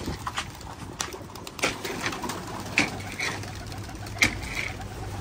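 Domestic pigeons coo softly on a home balcony, several low murmuring calls rising and falling at irregular intervals against a faint background hum, with no one speaking.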